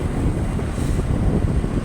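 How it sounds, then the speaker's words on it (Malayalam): Cold wind blows across the microphone as a steady, close, low rumble with no gaps, heard alone for a couple of seconds. "നല്ല തണുത്ത കാറ്റ്."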